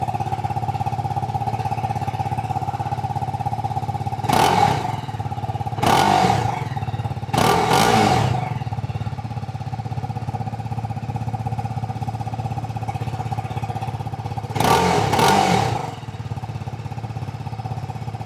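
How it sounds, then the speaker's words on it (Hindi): TVS Apache RR 310 motorcycle exhaust idling steadily up close, broken by four short, sharp throttle blips that rise and drop back to the even idle. "तो भाई आपको इस RR 310 की एग्जॉस्ट साउंड कैसे लगी कमेंट करके ज़रूर बताइएगा।"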